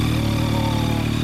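Engine of a 2016 Yamaha MT-09 motorcycle fitted with an Akrapovic exhaust, a steady loud low throbbing idle held close up for a brief moment, with no talk.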